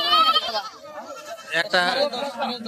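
At a local goat market, a goat bleats in short wavering cries close by. The bleats are mixed with bustling market noise and may overlap with nearby voices.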